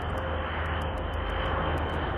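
Tiltrotor propeller aircraft in flight, a steady droning engine and rotor roar with a low constant hum, even and continuous throughout.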